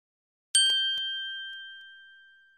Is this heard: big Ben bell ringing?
yes